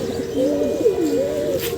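Female pigeons in a loft give clear, rolling coos, with several warbling phrases rising and falling in close succession against a light steady background.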